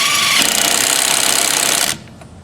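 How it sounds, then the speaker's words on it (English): An ALLOYMAN 1/2-inch drive cordless impact wrench hammers a lug nut tight in one loud, continuous rattling burst of about two seconds, then stops abruptly, leaving faint room noise. "Put the wrench on there and let's give her."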